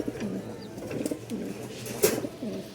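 A male domestic pigeon coos close by, repeating a soft, rolling throaty call about four times in an even rhythm.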